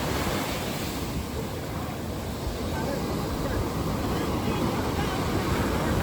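Strong ocean waves crash and roll at a beach, a loud continuous roar of surf with wind buffeting the microphone.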